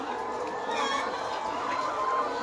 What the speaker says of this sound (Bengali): দেখতে পারতেছেন টোটাল 5000 মুরগি আছে এখানে।